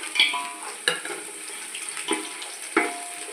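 Green chillies and cashews frying with onions in a pan for gongura chicken biryani: a soft sizzle with a few distinct scrapes and knocks of a spoon, no speech.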